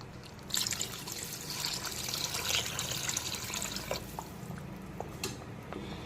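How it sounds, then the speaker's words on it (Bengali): Water pours steadily and fairly quietly into a cooking pan for a Bengali fish curry, a soft continuous trickle with a few scattered drips and splashes near the end. "দিয়ে দিচ্ছি জল।"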